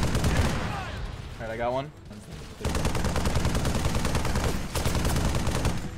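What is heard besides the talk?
turret gunfire in a Halo video game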